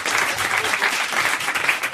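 A studio audience on a French radio comedy show applauds, with dense, lively clapping filling the short moment at close range.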